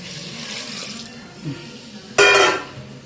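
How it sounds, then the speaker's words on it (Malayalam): Hot water poured into a jar of pickled lubika fruit, a steady soft trickle that ends in a brief, bright splashing gush near the end, with faint background noise. "ഇപ്പം ഇതിലേക്ക് ചൂടുവെള്ളം ഒഴിച്ച് വെക്കാം."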